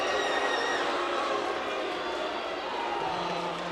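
Basketball crowd in a gym at a 2006-2007 high school sectional final between Wadsworth and Garfield, booing a foul call, a loud sustained roar of voices that fades slightly, with an announcer talking over it.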